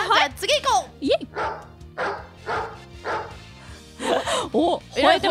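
A voice imitates a dog barking in a playful studio radio game: a series of loud, close, yelping woofs and whiny yips arrive in irregular bursts with short pauses between them.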